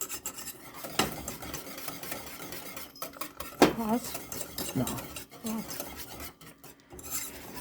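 A spoon scrapes and rasps against a pot while stirring a hot oatmeal no-bake cookie mixture, with irregular metallic scrapes and clinks and a few brief spoken words.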